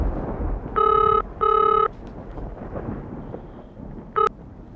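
A telephone bell rings indoors in a Bengali TV serial scene, two loud bursts in quick succession followed by a brief third ring after a pause, over a quiet background.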